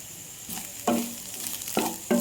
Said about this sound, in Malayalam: ഇഡ്ഡലി ഒന്ന് ചൂടാകുന്നിടം വരെ നമ്മൾ നന്നായി ഇളക്കി കൊടുക്കണം